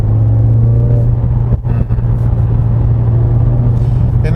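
A 2021 Mercedes-AMG CLA45S 4Matic Plus in Race mode accelerates hard from inside the cabin, a loud, steady engine drone with a brief dip partway through.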